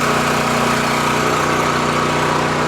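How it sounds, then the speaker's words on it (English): A pump on a crop sprayer runs steadily at close range, a continuous droning engine-like hum with even tone and no speech, loading pre-emerge chemical through the inductor. "got the pump on the sprayer running right now"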